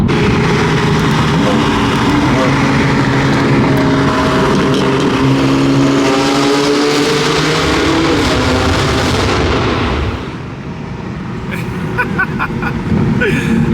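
Car driving with a loud, steady roar of engine and road noise close by for about ten seconds, then dropping to a quieter, lighter hum.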